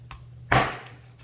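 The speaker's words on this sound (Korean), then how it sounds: "칼질 한번 쓱쓱, 칼질 한번 쓱쓱." A single sharp knife chop lands on a cutting board while raw chicken is butchered for fried chicken in a commercial kitchen, one crisp impact with a short decay over a steady low hum.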